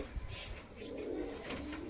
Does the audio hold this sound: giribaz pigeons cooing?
yes